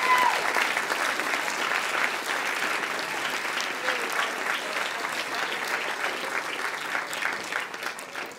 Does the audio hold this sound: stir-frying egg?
no